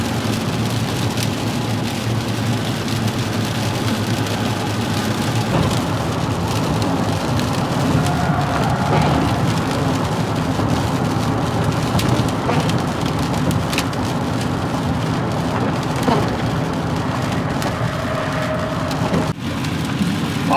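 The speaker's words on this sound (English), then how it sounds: "Oh, and it's raining more." Steady rain drums on a car during a highway road trip near Charleston, West Virginia, a dense continuous patter over low road rumble that holds evenly throughout, with no talking.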